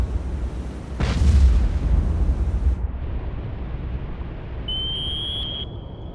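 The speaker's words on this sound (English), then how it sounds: "I don't think those explosions are anything in particularly nice there." A deep explosion booms in the Cold Waters submarine video game, a low rumbling blast that swells and fades, followed by a quieter underwater hum and a thin tonal whine.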